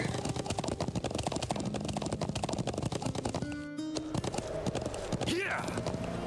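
Horse hooves clopping at a steady riding pace in the game Trails of Cold Steel, exploring the North Highlands, a rapid continuous patter mixed under calm game music with a brief break midway.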